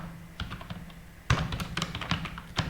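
Keys clatter on a computer keyboard while code is entered, a few sparse taps giving way to a denser run of close, crisp typing over a low steady hum.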